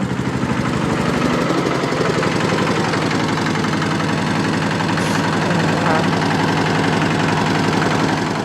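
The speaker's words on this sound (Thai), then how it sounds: "ก็ไปใส่เครื่องแปดแรง" An eight-horsepower engine fitted to a small Model M mini truck runs at a steady idle, a loud, continuous low throb with a rapid knocking pulse that holds unchanged throughout, with no talk.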